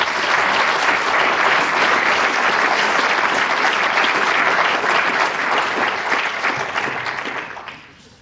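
Sustained audience applause at a county State of the County address, loud and steady for about seven seconds before tapering off at the end, with no talking over it.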